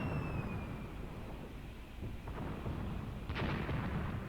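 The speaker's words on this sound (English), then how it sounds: "Maybe I should tell the mortars as well. And just when I click the record button, suddenly we actually shell it." Mortar shelling in the Graviteam Tactics war game rumbles as distant, muffled booms over a low constant roar, with a couple of brief sharper impacts near the end.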